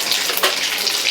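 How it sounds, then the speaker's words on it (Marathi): Mustard seeds and cumin hitting hot oil, a loud, close, continuous sizzling hiss with a brief sharper crackle in the middle. "तेल गरम झालेले आहे, मोहरी टाकूया, जिरी,"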